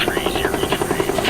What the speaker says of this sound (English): a medevac chopper is en route to take them to one of the 18 military hospitals in